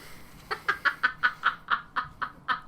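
A voice imitates Donald Duck, producing a run of about ten rhythmic, raspy quacking syllables at a steady pace, close and moderately loud with no other talk.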